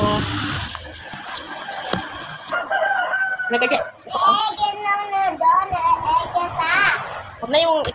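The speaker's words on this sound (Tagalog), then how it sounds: "Nag-itlog na yung manok." A hen that has just laid an egg clucks and cackles close by in repeated bursts, mixed with children's voices talking over it.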